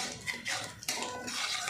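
A spoon scrapes and stirs spices fried with chilli powder and salt in a pan for a Bengali vegetable curry, making a steady broad sizzle with clinks of metal against the pan, close and alone.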